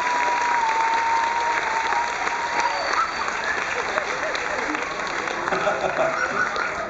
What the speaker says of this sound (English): Give them all another tremendous round of applause.